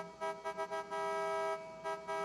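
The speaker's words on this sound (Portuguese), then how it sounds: "Buzina acende o farol junto." A Camaro's horn in the racing game The Crew, sounded as several short toots and then a longer steady blast, a bright, buzzy electronic tone with no talking.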